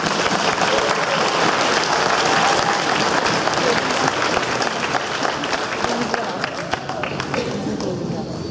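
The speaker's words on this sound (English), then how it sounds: "Let's give a big round of applause to our guests" Audience applause for guests at a school Diwali show, a long steady wash of clapping from a large crowd with cheering and chatter mixed in, staying loud throughout.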